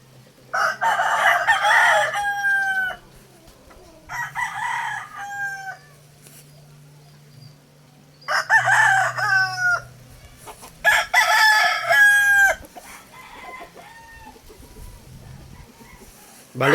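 Roosters crow repeatedly and chickens cluck on a small farm, loud and close, with someone talking quietly underneath at times.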